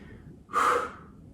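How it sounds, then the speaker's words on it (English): A single loud, breathy exhale during a yoga HIIT workout, a forceful noisy breath out lasting under half a second, close and alone. "Nice big noisy exhales"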